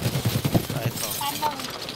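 Rapid bursts of boss gunfire in Escape From Tarkov crackle in quick succession over the first second, then thin into lower, scattered game noise.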